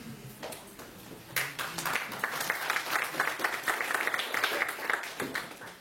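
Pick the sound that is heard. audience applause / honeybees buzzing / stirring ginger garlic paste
audience applause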